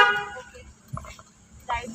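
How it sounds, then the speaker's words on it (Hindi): A car horn honks briefly during a driving lesson on an Indian road, short toots standing out at moderate distance amid traffic noise, with a voice speaking Hindi nearby. "लॉन्ग हॉर्न पुश करके"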